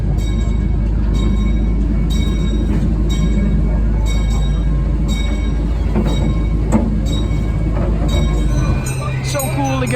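Small amusement park train at a Southern California theme park rolling steadily along its track with a continuous low rumble and faint rhythmic clicking, then the rumble cuts off near the end; voices are heard over it.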